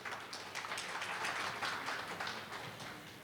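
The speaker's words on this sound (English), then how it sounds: "Can we have a warm applause for our speakers?" Audience applause for the speakers at a literary conversation event, a steady wash of many hands clapping, faint and distant, alone without talk.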